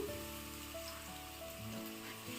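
Onion and green chilli pieces frying in a pan for an Andhra-style gongura mutton curry give a steady, close sizzle that holds throughout with no talking.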